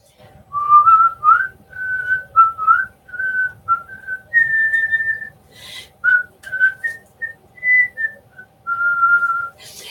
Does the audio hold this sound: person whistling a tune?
yes